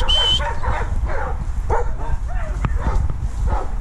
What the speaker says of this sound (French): Ah oui, mais là j'ai un chien.